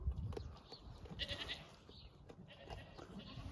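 An ordinary goat bleats close by during milking, several short wavering calls scattered over a few seconds amid quiet rustling and handling noises.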